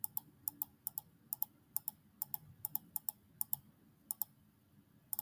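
Crisp computer mouse clicks while drawing with a pen tool, mostly in quick pairs in a steady irregular rhythm, close and distinct over a faint low background hum.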